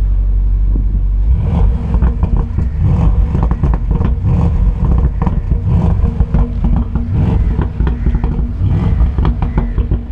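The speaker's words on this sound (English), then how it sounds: "this is the original sport mode sound." A 2020 Bentley GT 4.0 with its original exhaust in sport mode rumbles and revs loudly up close, a deep, crackling engine roar that swells after a brief lower idle and stays strong throughout.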